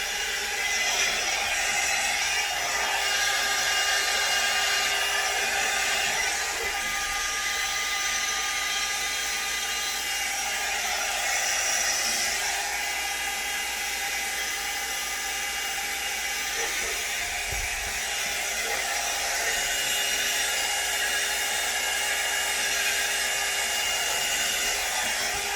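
A hair dryer blows steadily on a blonde synthetic wig, giving a constant loud rushing hiss that continues without a break and without talk.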